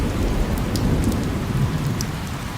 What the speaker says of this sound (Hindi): जोर जोर से बादल गरज रहे थे और साथ में लगातार बारिश